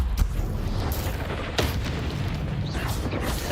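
A Confringo spell blast in Hogwarts Legacy gives a few booming bursts among ongoing spell effects, and a voice calls the spell name.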